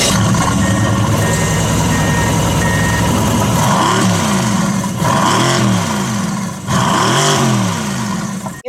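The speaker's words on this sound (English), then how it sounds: "Now we're gonna start it up, give it some revs." A 2020 Mercedes-AMG GT C engine runs loud and close, then revs up and down several times in sweeping surges, with a faint beeping early on.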